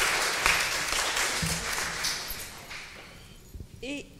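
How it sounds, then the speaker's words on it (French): An audience at an education research event applauds a doctoral student's poster award; the clapping is dense at first, then thins and fades, and a voice speaks briefly at the end. "je crois que nous pouvons applaudir à nouveau notre"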